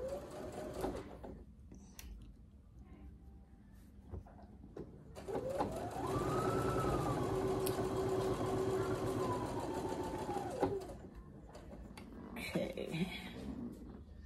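A sewing machine joins quilt blocks, running a steady mechanical whir for several seconds in the middle after a short start, with a person talking around it.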